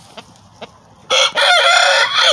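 A rooster crows loudly and close for over a second, following a couple of faint, soft clucks, with no other voices around.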